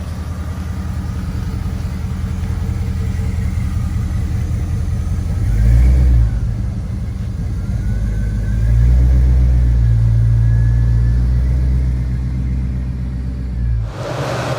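A 1971 Chevrolet C-10 restomod truck engine rumbles low and steady from inside the cab on a test drive, swelling twice as it accelerates, with no talking.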